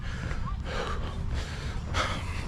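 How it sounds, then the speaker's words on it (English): Heavy, ragged breathing from a runner just after a five-minute run during marathon training, close and steady with a few sharper gasping inhales. "Breathing super heavy."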